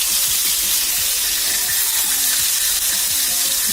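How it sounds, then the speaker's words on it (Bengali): A large spiced fish fries in hot oil, a loud, dense, unbroken sizzle at close range with faint bubbling beneath. "মাছগুলো আমি ভাজি করে নেব।"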